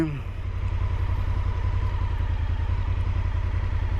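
A motorcycle engine idles steadily and close in a parking area at Pulhapanzak Falls, Honduras, a low continuous throbbing rumble that holds unchanged throughout.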